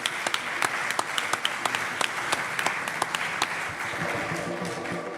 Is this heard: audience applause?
yes